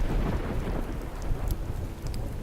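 Thunder rumbles beneath steady rain in the video game Deadly Dyscourse, a continuous downpour with low rolling booms and scattered droplet patters, no voices.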